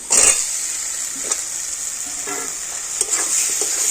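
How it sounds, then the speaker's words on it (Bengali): Fried potatoes sautéed with spices in a pan, a continuous bright sizzle of hot oil broken by several scraping stirs of the spatula, loud and close with no talking. "আলুগুলো মশলার সাথে একটুখানি কষে নিচ্ছি"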